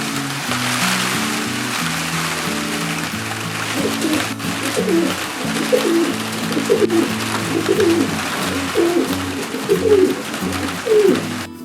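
Jansen pigeons coo repeatedly inside a loft on a cold, rainy, windy day, with soft rhythmic cooing phrases rising over a steady background of wind and rain noise.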